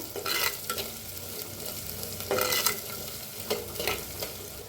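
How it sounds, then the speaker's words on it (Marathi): Onion being stirred and fried in a clay pot, a continuous close sizzle with rhythmic scraping strokes of a spoon against the pot, no talking. "छान असं भाजून घेऊया हलवता म्हणजे करत तयार"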